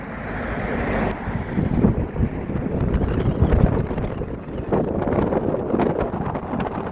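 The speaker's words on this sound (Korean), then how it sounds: "바람이 너무 많이 붑니다" Strong wind buffeting a microphone outdoors near a golf practice range and coastal park, loud rumbling gusts and roaring turbulence throughout, with no talk.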